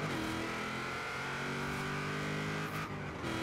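Car accelerating hard in the Forza Horizon 4 racing game driven with a Logitech G920 wheel, a loud continuous engine note climbing steadily in pitch, briefly dipping near the end before rising again.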